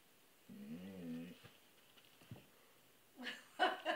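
A dog makes a drawn-out whining, groaning vocalization followed by short whimpers and a brief louder burst, faint and close in a quiet room.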